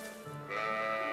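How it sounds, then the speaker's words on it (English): A single sheep in Trails of Cold Steel lets out a short, clear, wavering bleat, close and alone, lasting about a second. "Look at all the sheep here."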